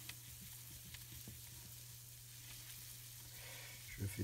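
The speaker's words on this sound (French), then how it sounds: "Je fais fondre mon beurre." Butter melting and sizzling in a pan as the base for a roux in a veal blanquette, a faint steady hiss with a low hum and a few soft clinks, louder bubbling near the end.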